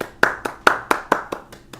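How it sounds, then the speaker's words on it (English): Hands clapping in a sharp, steady rhythm, about eight crisp close claps at a regular pace that grow slightly softer toward the end, with no voices. "Applause, everybody."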